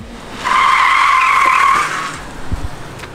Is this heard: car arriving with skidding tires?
yes